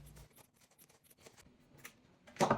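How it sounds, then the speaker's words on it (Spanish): Scissors make small snipping cuts into leftover fabric while a stool is reupholstered into a pouf, sounding as a few faint, crisp snips close by and one louder rustle at the end. "Ahora con unas tijeras vamos a ir haciendo unos pequeños cortes en el sobrante de tela."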